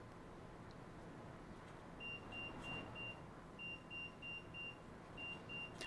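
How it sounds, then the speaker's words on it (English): A car alarm sounds outside during a windstorm, faint and distant, repeating short beeps in an intermittent pattern over a low rushing wind background. "Ooh, my car alarm's going off."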